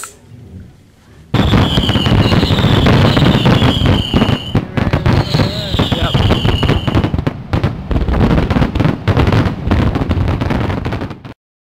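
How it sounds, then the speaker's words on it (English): Fireworks burst loudly in a rapid barrage of cracks and bangs, with whistling rockets rising between the explosions, starting abruptly after a brief quiet and ending suddenly. "Fireworks!"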